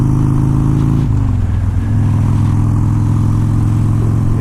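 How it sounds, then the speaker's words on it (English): A Harley-Davidson Dyna motorcycle engine idles loud and close with a steady low rumbling throb, its pitch dipping slightly partway through. "This bike runs great."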